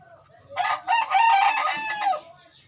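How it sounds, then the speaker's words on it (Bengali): A rooster crows once, loud and close, a drawn-out call of about two seconds rising and holding before trailing off at a rural Bengali home. "মোরগটা কেমন ডাকছে"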